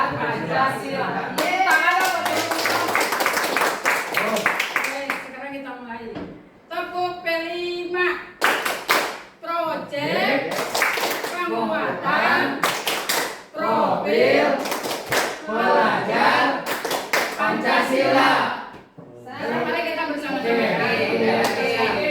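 A group of teachers performs the tepuk P5 rhythmic clapping game as an icebreaker, with bursts of patterned hand claps alternating with chanted speech in a small room.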